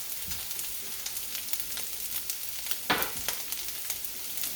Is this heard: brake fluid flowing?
no